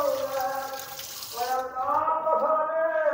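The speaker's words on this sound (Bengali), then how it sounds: "তো চলো মাংসটা ধুয়ে নিই।" Raw meat being washed under a running kitchen tap, a steady stream of water splashing close by, its tone shifting as the meat moves beneath it.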